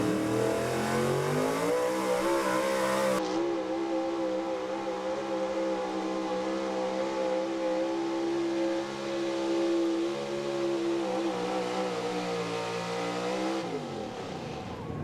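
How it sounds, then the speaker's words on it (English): A pulling truck at a truck and tractor pull roars at full throttle through a long sustained run, its loud harmonic engine note climbing and holding steady for over ten seconds before dropping off, with no talk over it. "But if anybody can do it, it's this truck right here, Tracy Troy from Rector, Pennsylvania"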